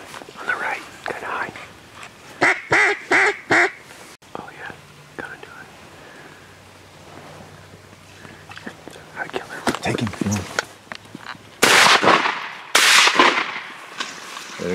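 Shotgun blasts during a mallard duck hunt at Carl's Corner, a few sharp loud reports late in the clip, with hushed whispering voices and rustling earlier.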